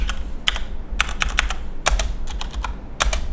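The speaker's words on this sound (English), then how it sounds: "I'm typing to teleport to you." Fast, uneven keystrokes clatter on a computer keyboard during a Minecraft-style modded game session, close and loud, coming in short irregular bursts with brief pauses.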